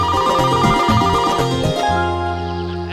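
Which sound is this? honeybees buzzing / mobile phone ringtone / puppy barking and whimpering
mobile phone ringtone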